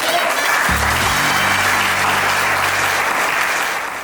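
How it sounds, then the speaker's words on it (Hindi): An audience breaks into loud, dense clapping in a comedy sketch, sustained applause for about four seconds with a low musical sting underneath and no talking. "चलो अब आप लोग ताली मारो।"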